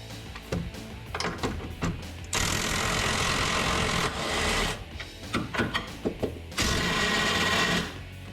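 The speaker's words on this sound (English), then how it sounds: "I'm using a 18mm deep well socket, impact socket with an impact wrench, electric, and we're just gonna take these off." An electric impact wrench with an 18mm deep-well impact socket hammers bumper bolts off a Jeep Gladiator JT in two long, loud buzzing bursts, separated by short clanks and handling noise nearby.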